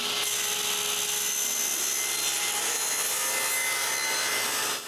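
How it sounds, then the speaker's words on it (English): A table saw cutting a groove into wood for a movable workbench, a loud, steady whining cut that holds for several seconds before stopping at the end. "I do that with a series of cuts on the table saw."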